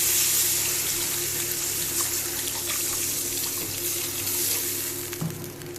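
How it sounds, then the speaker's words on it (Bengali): Water runs steadily into a pot of fried lentils (dal) being cooked, a continuous close pouring gush like a tap filling a vessel, easing off near the end, with no talking. "ভাজা হয়ে গেছে, এবার এর মধ্যে আমি জল দিয়ে দেবো।"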